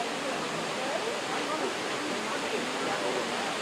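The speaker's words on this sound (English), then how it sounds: "Can you turn down the waterfall a little bit?" A steady, broadband rush of falling water from a waterfall at an outdoor restaurant, continuous and fairly loud at close range, running unbroken for nearly four seconds with no other sounds standing out.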